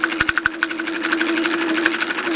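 Bowman M135 toy steam engine running steadily with a continuous mechanical hum and chuff, its safety valve blowing a constant hiss throughout, with a few sharp clicks over the top.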